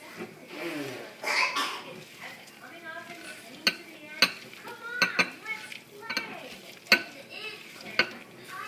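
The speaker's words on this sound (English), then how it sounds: "Let's mix it together." Sweetened shredded coconut and coconut milk being stirred together in a bowl for vegan coconut macaroons, giving soft scraping and occasional sharp utensil clicks against the bowl in a loose, irregular rhythm, with a voice speaking briefly near the start.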